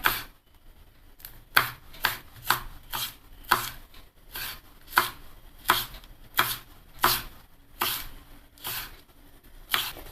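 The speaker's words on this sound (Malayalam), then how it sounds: "ഇനി പച്ചമുളകും അതുപോലെ ചെറുതായിട്ടൊന്ന് അരിഞ്ഞെടുക്കാം" Green chillies being finely chopped with a knife on a board for an aubergine masala fry, a steady run of about fifteen sharp, close knife strikes in an irregular rhythm, with no talking.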